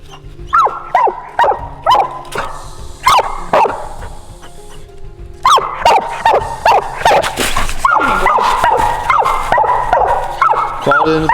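Coon hunting hounds bark repeatedly at a raccoon den in the woods, with loud, close, rhythmic bays that come in bursts separated by short pauses, and a few faint voices in the background.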